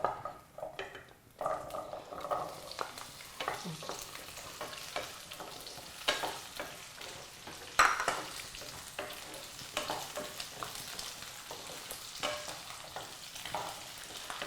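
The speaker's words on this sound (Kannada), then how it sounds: "ಆಗ ಎಣ್ಣೆ ಬಿಸಿ ಆಗಿದ್ದೆ ಈ ತೊಂಡೆಕಾಯಿ ಹಾಕೊಂಡ್ಬಿಡೋಣ" Cut ivy gourd fries in hot oil with a continuous sizzle, with frequent stirring scrapes and clinks of a spoon against the pan throughout. No one speaks.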